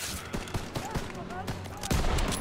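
Repeated gunshots from a sniper rifle in Call of Duty: WWII crack out in a quick irregular string, fairly close and loud, with a voice talking over the firing.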